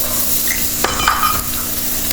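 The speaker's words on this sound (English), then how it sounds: "So here in a pan, I'm taking some sesame oil. Add finely chopped garlic." Finely chopped garlic sizzles in sesame oil in a pan, a close, steady hiss broken by a few brief scrapes of stirring.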